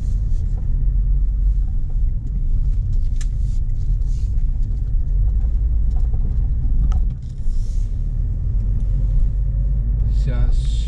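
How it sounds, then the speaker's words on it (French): A car rolls slowly through a stone-built village in Brittany, its engine a low steady rumble heard from inside, while someone talks over it. "je vais essayer de rouler doucement"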